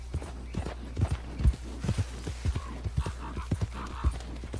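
A horse's hooves clip-clop at a steady trot in the video game Red Dead Redemption 2, close and fairly soft over a low background rumble.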